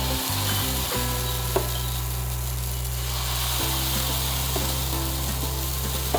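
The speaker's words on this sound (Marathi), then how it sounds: "तवा गरम झालेला आहे, तर हे बॅटर आता मी त्याच्यावर टाकते." Uttapam batter hits a hot griddle and sizzles steadily, a close, loud, continuous frying crackle with a low hum beneath and a few sharp ticks.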